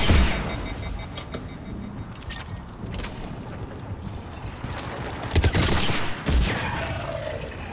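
Gunfire from a Mass Effect battle, with dense bursts of shots and mechanical clatter over a constant roar of combat, and two heavy booming reports standing out toward the end, loud and close.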